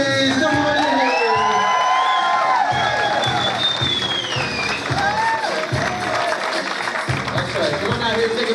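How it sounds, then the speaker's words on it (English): Wedding guests in Lincoln, Nebraska cheering, whooping and applauding the newlyweds as they enter, loud crowd noise throughout with shouts and a music track and voices mixed in. "the biggest round of applause you can give, Mr. and Mrs. Ryan, please."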